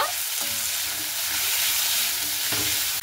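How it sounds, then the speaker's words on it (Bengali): Diced potato and chopped onion frying in a pan for chowmein, a steady close sizzle with a soft hiss running throughout and a couple of brief stirring scrapes, no voices. "কিন্তু আলুটাকে আর পেঁয়াজটাকে খুব ভালো মতো করে ভেজে নেব"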